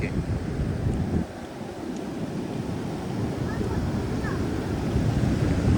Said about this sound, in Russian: Там прям волны.